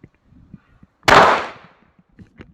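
A single loud gunshot from a firearm in a video game shooter, one sharp near blast with a short decaying tail, standing alone between quiet stretches.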